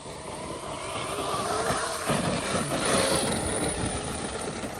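A Traxxas X-Maxx RC car runs at full throttle on wet ground, giving a loud, steady high-pitched electric motor whine with tire and drivetrain noise that holds for several seconds without talk.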